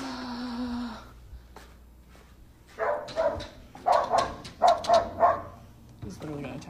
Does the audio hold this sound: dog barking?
yes